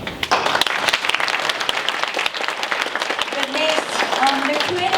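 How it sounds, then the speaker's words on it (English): An audience at a meet-the-candidates event for a state election applauds loudly and close, a burst of many hands clapping that continues while a voice speaks over it. "Let's give a big applause"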